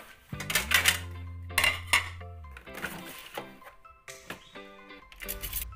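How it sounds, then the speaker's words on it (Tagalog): Dishes and plates clatter and clink in a home kitchen as a plate is taken for breakfast, several sharp bursts of ceramic knocks near and fairly loud, with a sustained ringing tone after the first clatter and lighter clinks later. "Kuha tayo ng pinggan."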